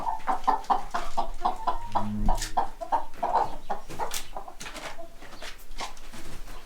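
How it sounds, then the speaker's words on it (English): Farm chickens on a Portuguese smallholding cluck and squawk repeatedly up close while being picked up and passed between people, with a brief low thump midway. "Pass the chicken."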